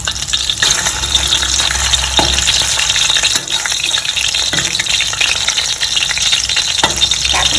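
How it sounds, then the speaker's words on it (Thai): Steady, dense sizzling of Thai featherback fish cakes frying in hot oil, continuous and close, with occasional faint clicks and shifts in the crackle. "อันนี้เราก็ทอดทั้งสองด้านเหลือง"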